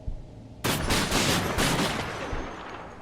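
Sudden loud burst of rapid gunfire from a World War trench shooter video game, sustained overlapping shots for about two seconds before tailing off into a lingering rumble, no speech.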